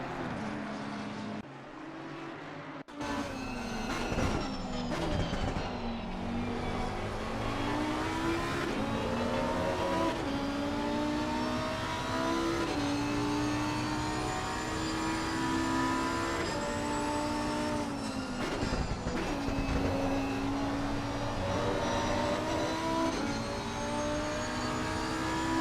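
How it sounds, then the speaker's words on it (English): Onboard engine of a Lamborghini race car lapping Imola, a loud, continuous high-revving roar with rising pitch sweeps through the gears and brief dips on braking and downshifts. "So let's go and catch on board once again with the Lamborghini here."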